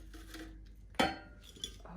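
Air-fried halloumi fries are dished up into a serving dish. A single sharp clink of ceramic or cutlery stands out, followed by a fainter tap, with soft handling noise in a quiet kitchen.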